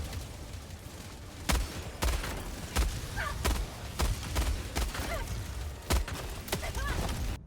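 A heavy machine gun in the shooter Helldivers 2 fires in a string of sharp, evenly spaced reports over a dense background rumble of battle, with a few faint chirping tones between shots.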